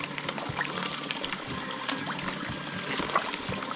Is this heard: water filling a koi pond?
yes